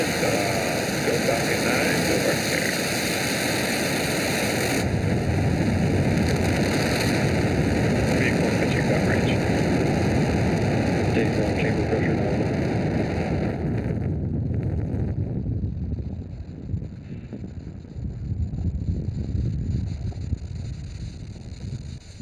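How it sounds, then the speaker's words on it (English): A SpaceX Falcon 9 rocket lifts off from Space Launch Complex 4 East carrying the EarthCARE satellite, a dense, continuous roaring rumble heard at a distance that holds steady, then thins and fades toward the end. "Falcon 9 has successfully lifted off from Slick 4 East carrying the EarthCARE satellite"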